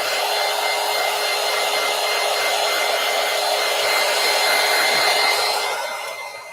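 A hair dryer blows steadily to dry paint on a gelli print, a loud continuous whirring hiss held close, easing off slightly near the end.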